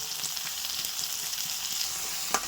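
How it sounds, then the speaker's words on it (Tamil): Ginger, garlic and tomato sautéing in a pan for vada curry, an even close sizzle with light stirring scrapes and a small clack near the end, no talk. "இஞ்சி பூண்டு போட்டு நல்லா வதக்கிட்டு தக்காளி போட்டுக்கலாம்"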